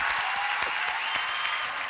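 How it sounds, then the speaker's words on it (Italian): An Italian audience applauds at a Christmas special show, thick continuous clapping from many people, loud and even throughout. "facciamo un altro applauso per questa Tosina cosa grande"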